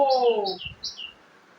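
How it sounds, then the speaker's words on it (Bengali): A few high bird chirps repeat outdoors at a moderate distance, following a brief voice and some soft thumps nearby. "পাখি এসছে বাইরে ডাকছে তো"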